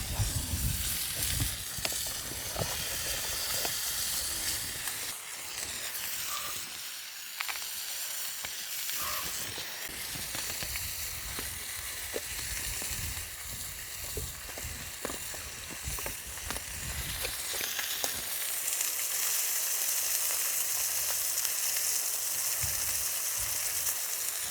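Shiitake mushrooms fry in a hot pan at a riverside camp, giving a continuous crackling sizzle with bursts of popping and hiss that carry on without pause and with no voices.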